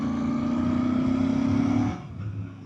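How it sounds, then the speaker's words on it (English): Stock Royal Enfield INT650 parallel-twin motorcycle engine idling and burbling steadily up close for nearly two seconds, then dropping away to a quieter low rumble. "This 650, man, is definitely one of my favorite sounding engines by far."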